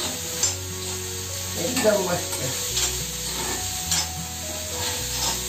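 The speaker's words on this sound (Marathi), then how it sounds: "कांदा असं परतत राहावं का नाही कढईत?" Onions stirred and fried in a kadhai give a loud, close sizzle, with scraping stirs of the spoon throughout and a brief spoken comment partway through.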